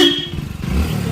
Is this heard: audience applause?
no